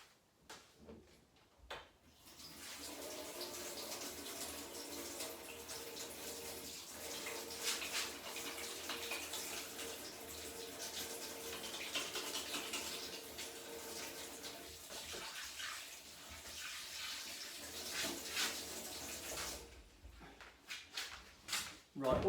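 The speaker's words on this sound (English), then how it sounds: "and I'll just wash my hands." Hands are washed under a steadily running kitchen tap, a continuous splashing stream for about twenty seconds that starts and stops abruptly with faint handling around it.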